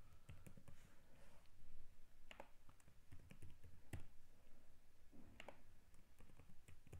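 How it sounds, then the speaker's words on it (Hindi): Keys click on a computer keyboard as names are typed into a PowerPoint slide, quiet irregular taps in short bursts with pauses, close but faint, no talking. "लेट से मैं कुछ नाम आपको टाइप करके दिखाता हूँ."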